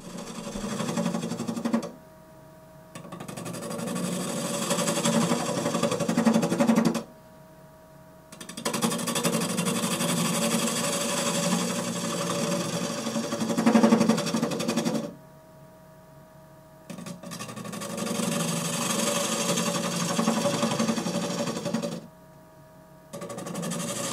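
A wood lathe turns a red maple burl box lid, giving a steady whirring hum with a scraping cutting texture in long passes, broken by short pauses where the cutting stops.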